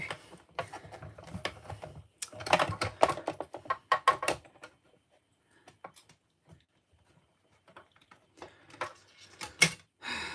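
A hand-cranked die-cutting machine forces card stock through its rollers, making bursts of clicky, ratcheting mechanical clatter that start and stop in uneven spurts, close by with quiet gaps between.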